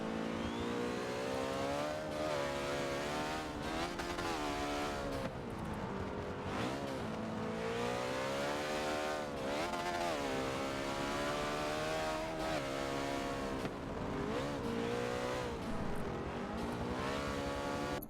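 Race car engine of a 1968 Alfa Romeo in the Forza 7 video game, loud and continuous, with the revs rising and falling through gear changes on the Brands Hatch circuit and no talk.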